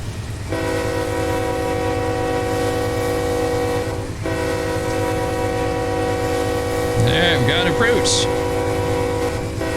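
Laggy GE diesel locomotives throttle up in Run 8 Train Simulator, a steady loud engine drone with layered harmonic tones running throughout, briefly dipping midway, with a horn-like tone sounding near the end.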